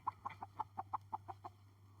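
A chicken clucks in a quick series of about nine short, soft clucks over a low steady hum, fairly quiet and close.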